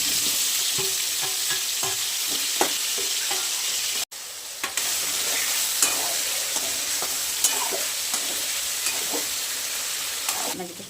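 Vegetables sauté in hot oil with turmeric and salt for a potato and pea curry, giving a steady close sizzle under repeated scraping and stirring clicks from the pan, briefly cutting out for a moment midway.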